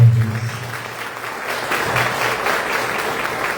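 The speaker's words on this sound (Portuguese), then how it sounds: "Vamos aplaudir ele mais uma vez." A church congregation at a Mother's Day mass applauds in a dense, steady patter of clapping that carries on for several seconds after a brief low voice at the start.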